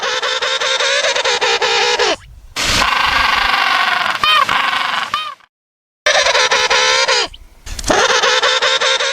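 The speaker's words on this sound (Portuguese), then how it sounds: "Esse é o som de um pinguim." A penguin gives loud, harsh braying calls in repeated bursts, each a strained, honking series of pulses broken by short pauses.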